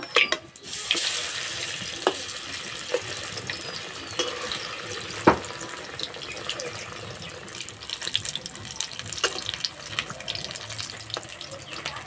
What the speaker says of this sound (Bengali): মাঝারি আঁচে একটু সময় নিয়ে আস্তে আস্তে ভাজতে হবে, তাহলে বেগুনগুলো খুব সুন্দর ভাজা হবে